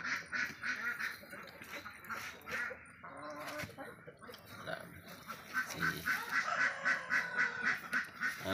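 Ducks quacking on a farm during morning egg collection, a flock of close, loud overlapping nasal quacks that continue throughout and build toward the end.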